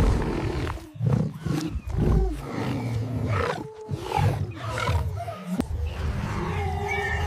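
Loud, furious ape roars and deep guttural predator growls overlap in a chaotic, close-sounding animal clash, with crashing noises breaking through.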